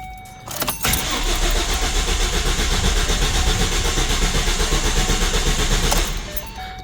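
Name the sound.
twin turbo Ford Mustang engine cranking without fuel pressure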